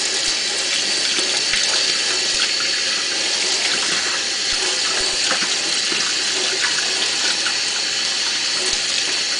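Cold tap water runs steadily from a faucet as an object is rinsed under it, a continuous close splashing hiss with no pauses.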